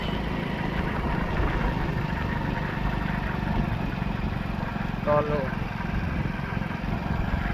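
A motorcycle engine idles at a steady, even rumble close by, with a voice talking over it throughout.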